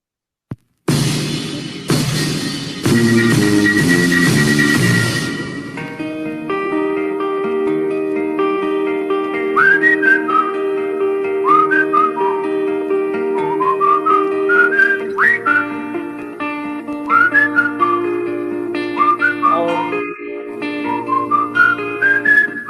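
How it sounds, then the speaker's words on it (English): After a few loud opening chords, someone whistles a bright, jaunty melody over steady background music, the tune rising and falling in quick phrases. "it's got something whistling in it, hasn't it?"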